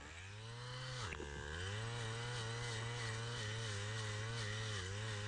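A Stihl string trimmer fitted with a steel wire head cuts weeds growing through concrete in a park. The engine drones steadily and close, dipping briefly in pitch as the load changes, then holds a constant buzzing whine.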